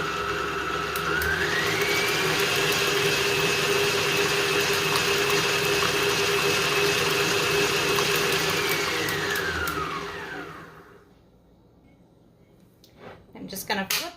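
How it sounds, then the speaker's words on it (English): Cinnamon, salt and other ingredients are mixed with a motorized mixer. A loud, steady whirring drone holds for about ten seconds and then winds down to quiet, with a few soft clinks near the end. "Time to give those a mix."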